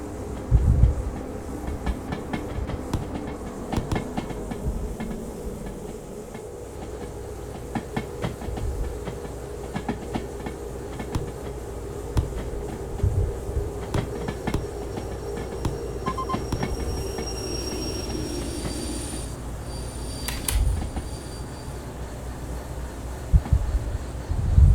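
Train cars shunting at a steel mill in the Derail Valley railway game: a steady rolling rumble with wagon clatter and couplings clanking, then a high wheel squeal and hiss late on. No voices.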